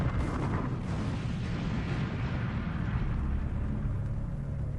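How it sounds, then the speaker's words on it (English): Massive vapor cloud explosion at a large oil refinery, a sustained roaring blast rumble that stays loud and dense throughout with no gaps. "America's third largest refinery suffered a major explosion."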